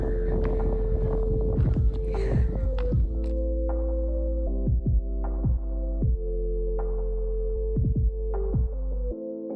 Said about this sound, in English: वापस जा रहे हैं बोट पे।